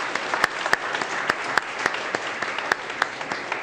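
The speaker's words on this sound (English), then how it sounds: "Round of applause for all the schools and all the administration." A small audience applauds at a school STEM program kick-off, a steady patter of clapping with distinct louder claps standing out at irregular moments, heard alone for a few seconds.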